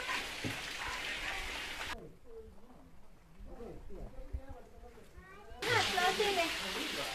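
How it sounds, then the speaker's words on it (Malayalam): Rain patters in a steady broadband hiss for the first two seconds and again near the end, with a person talking in the quieter stretch between. "മഴ വീണില്ലേ?"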